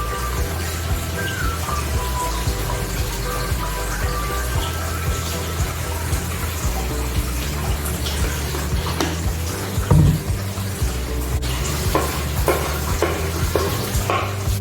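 Shallots frying in oil and being stirred in a pan for an Acehnese fish dish, a continuous loud sizzle with occasional scraping strokes near the end.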